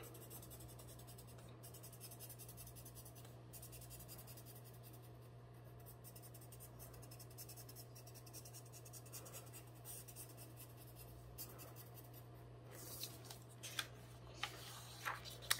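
A pencil scratches back and forth over folded paper in soft, continuous rubbing strokes. It is faint and close, with a steady low hum underneath and a few sharper taps near the end.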